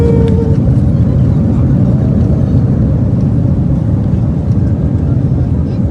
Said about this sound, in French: on a atterri